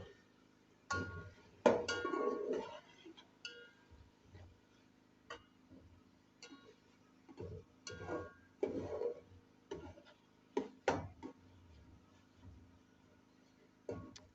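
Carrots being stirred and sautéed in a pan with tomatoes for a vegetable clear soup, giving irregular clinks and scrapes of a spoon against the metal pan over a faint low sizzle, with no talking.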